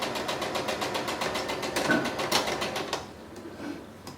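A sewing machine double-stitches the end of a fabric mask seam, producing rapid, regular mechanical ticking pulses up close that halt partway through, leaving faint quiet after.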